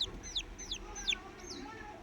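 A distressed chicken, apparently one of a brood left without its mother hen, calls repeatedly. About six shrill, high peeping cries come in an uneven rhythm, fairly close, over quiet background noise.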